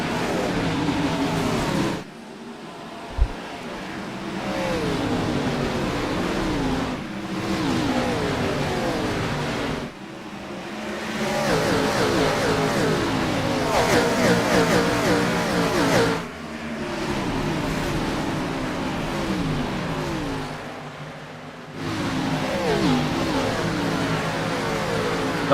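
Race cars in the iRacing sim roar off at a green flag start at Rockingham, engines surging and revving loudly in repeated waves with brief lulls between, no talk over them.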